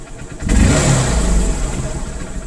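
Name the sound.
motorcycle engine revving, 2009 Bajaj BS2 bike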